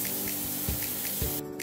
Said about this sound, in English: Put a few drops in the bottle and fill it with water.